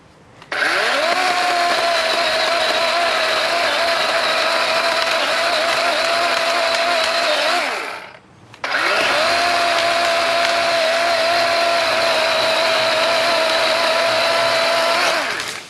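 A DeWALT 20V XR cordless chainsaw cutting wood, two long sustained bursts of steady high motor whine at close range separated by a brief pause near the middle, with no voices.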